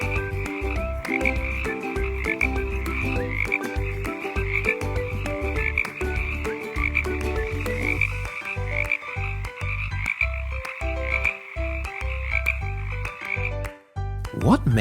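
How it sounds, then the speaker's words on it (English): A spring frog croaks over and over in a steady, rapid pulse, loud and close, its calls layered with other croakers in a dense, continuous chorus that runs the whole time before cutting off near the end. "It's a frog."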